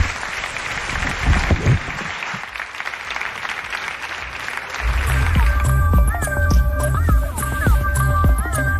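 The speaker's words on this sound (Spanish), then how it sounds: "Pido un aplauso para él." Studio audience applause at the close of a Spanish television programme, steady clapping from a group that carries on under music rising in the second half.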